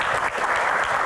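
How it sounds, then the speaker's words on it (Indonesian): A short, loud burst of audience applause at a live Q&A event, close and dense, fading slightly midway before swelling again. "Tepuk tangan lagi"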